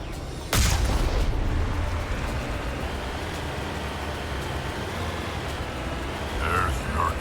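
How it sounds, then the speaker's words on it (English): Artillery fire in the video game Mass Effect: one sharp heavy boom near the start, then a dense sustained rumble of fire and noise under it, with a swell of activity near the end. "There's the artillery, Shepard."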